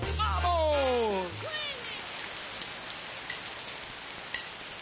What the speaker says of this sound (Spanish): vino la lluvia